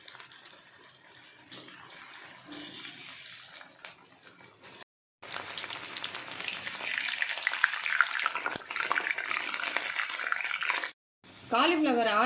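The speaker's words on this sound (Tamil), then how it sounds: "இதே மாதிரி எல்லா காலிஃப்ளவரையும் ஃப்ரை பண்ணி எடுத்துக்கலாம்" Cauliflower frying in oil on a medium flame for restaurant-style gobi manchurian, with a steady sizzle and bubbling that continues under ongoing talk, broken by two brief gaps.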